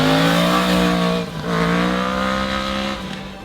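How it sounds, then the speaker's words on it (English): A 2017 Yamaha FZ-10 motorcycle engine accelerates loudly and close, its rising tone climbing through gears with a brief dip at a shift before pulling again and fading slightly. "Beautiful sounding engine."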